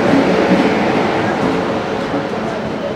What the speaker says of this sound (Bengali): দেরাদুন থেকে নতুন দিল্লি শতাব্দী এক্সপ্রেস।